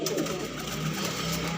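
Domestic pigeons, including a large female pigeon, coo softly in a short, close burst at a pigeon seller's shop, with a low murmur of background noise.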